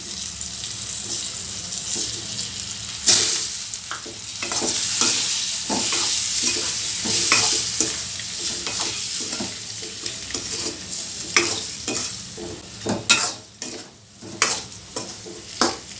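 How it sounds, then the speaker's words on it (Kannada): Boiled eggs fry in hot oil with turmeric and chili powder for a garlic egg roast, steady close sizzling throughout while a spoon stirs and scrapes the pan in repeated clinks, no voices. "ಮೊಟ್ಟೆ ಎಲ್ಲ ಚೆನ್ನಾಗಿ ಎಣ್ಣೆಯಲ್ಲಿ ಸ್ವಲ್ಪ ಫ್ರೈ ಆಗಬೇಕು."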